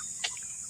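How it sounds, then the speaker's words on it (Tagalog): A steady high-pitched trill of crickets chirping continuously in the background in a quiet rural province setting, with a brief faint chirp near the start. "yung huni ng kuliglig."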